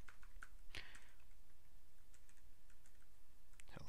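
A URL is typed on a computer keyboard: a quick, quiet run of close key clicks with a few louder taps, alone without speech.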